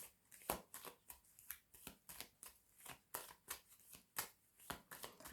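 Tarot cards are laid down one after another onto a spread to cover the nine of spades, giving a run of sharp, close papery slaps and flicks in an irregular rhythm with no talking.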